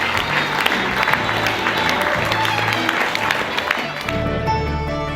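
Around 250 dinner guests at a Michelin-star grand dinner at a Seoul food festival applaud the chefs on stage, a steady crowd clapping that fades near the end as a narrator's voice comes in.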